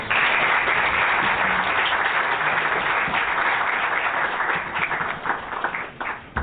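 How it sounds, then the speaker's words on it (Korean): Seminar attendees at an academic theology gathering give a big round of applause to thank the presenters, a full, steady burst of clapping that thins and fades toward the end. "분들 한번 감사하다는 위해서 한번 큰 박수로 한번 드리겠습니다"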